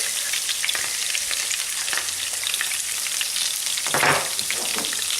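Onion, garlic and mushrooms frying in a hot pan, a dense steady sizzle close up, with a brief louder scrape of stirring about two thirds of the way through.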